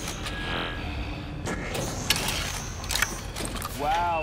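A printer machine powering up in a Call of Duty: Advanced Warfare zombie-style mode gives off mechanical whirring, creaks and clicking gear-like ratchets, loud and close, with a rising electronic sweep at the end.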